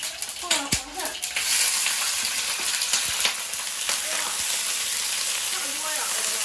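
Eel frying in a wok with ginger slices, a dense continuous sizzle with scraping stirs and clinks near the start, loud and close throughout.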